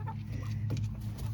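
Hens in a chicken pen scattered with hay give soft, brief clucks close by over a steady low background hum, with no talk during the moment.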